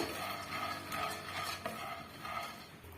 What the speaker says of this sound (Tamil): மிதமான தீயில வச்சு வறுத்து விடுங்க